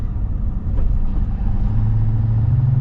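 Steady low diesel drone from a 2024 Ford Super Duty pickup with its big Power Stroke powertrain, heard from the cab on the move, rising a little toward the end with no voices.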